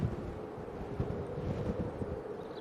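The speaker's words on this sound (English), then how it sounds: "It is blowing a hoolie straight down the runway at the moment." Strong gusty wind blows straight down the runway at Manchester Airport, buffeting the microphone with a low, rough, steady roar that swells and dips, no voices.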